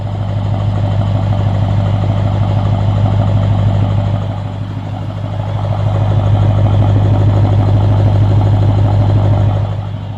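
A Lexus RC F V8 idles with its valved exhaust open, a steady deep rumble that holds close and loud, dips briefly, then swells again.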